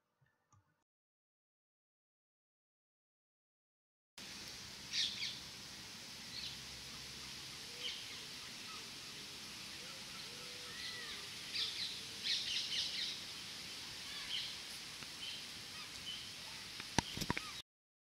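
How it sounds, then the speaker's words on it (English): A non-native bird calls from the trees of Northdown Park near Margate, faint repeated calls in a steady outdoor hiss after a few silent seconds. "there's a noise coming from the trees of a bird, and that bird is not native to Britain"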